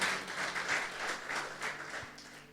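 A church congregation at an Indonesian sermon service bursts into a brief round of dense applause that slowly fades, with no talking over it.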